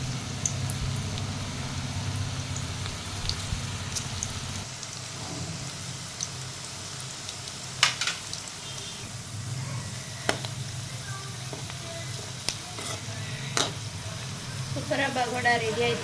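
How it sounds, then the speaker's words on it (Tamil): Mutton pakoda frying in hot oil, a steady close sizzle and bubbling throughout with scattered crackles and pops that grow busier toward the end, no talking. "பகோடா பொரிக்கிறதுக்கு தேவையான அளவுக்கு எண்ணெய் விட்டுக்கோங்க."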